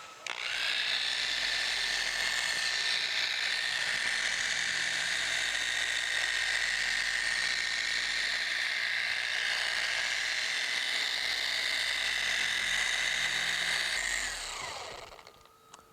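A Porter Cable 7424XP dual-action polisher spreads wax over car paint, a steady high whine running continuously for about fourteen seconds, then spinning down to a stop.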